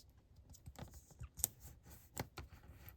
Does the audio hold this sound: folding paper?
yes